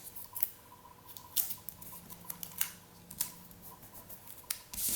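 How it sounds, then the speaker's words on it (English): Scissors snip through paper for an autumn iris-folding craft décor piece, a string of short crisp cuts at irregular intervals, close and fairly quiet, with no talking. "I'm going to trim that."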